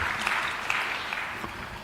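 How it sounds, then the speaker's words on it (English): Audience applause at the opening session of the 12th Tanzania Health Summit 2025, a soft, steady patter of many hands clapping at a distance, brief and even. "Let's put our hands together for him and our host this morning"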